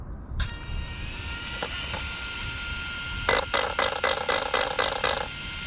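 A TLR 5B large-scale RC car is bench-tested, giving short electric motor whirs followed by a quick series of rapid, close buzzing servo pulses as the steering swings back and forth, with no talking.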